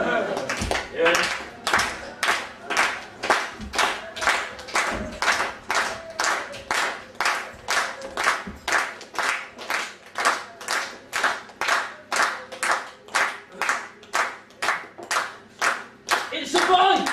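An outdoor crowd watching a straitjacket escape claps in steady unison, a long run of evenly spaced loud claps repeating about twice per second, with some voices at the start and end.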